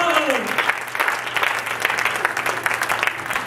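Church congregation applauding in praise, a steady wash of many hands clapping throughout, fairly close and full, with voices mixed in under the clapping.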